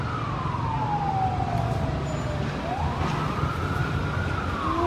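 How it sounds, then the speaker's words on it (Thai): A fire truck siren wailing as it arrives at a burning building at Lao Itecc, a steady rising and falling tone carrying clearly over the background street noise. "รถดับเพลิงมา2คันแล้ว"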